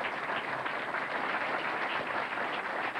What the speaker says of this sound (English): a round of applause for our winners